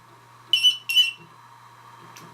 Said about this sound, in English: when you press and hold 5 seconds and it beeps twice, it should go on